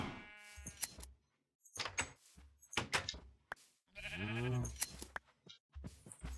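Sheep in Minecraft give several distinct wavering bleats, the longest near the middle, separated by short gaps and soft clicking game noises, quiet overall with no speech.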